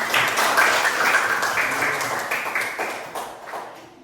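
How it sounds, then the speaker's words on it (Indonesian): Classroom students clap their hands together in a lesson, a dense burst of clapping that is loud at first and gradually fades, with no talking over it. "Oke, tepuk tangan dulu, semangat."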